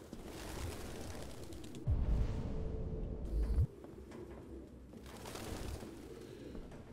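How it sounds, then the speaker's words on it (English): In the Detroit: Become Human video game, pigeons coo softly in a grimy room over low ambient hum, with a brief louder mechanical rumble in the middle. "So he got hella birds in here. I hear birds humming."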